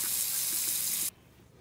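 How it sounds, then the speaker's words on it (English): Hot water runs from a kitchen tap in a steady, close gushing hiss, then cuts off abruptly, leaving near silence. "Now, turn the hot water on."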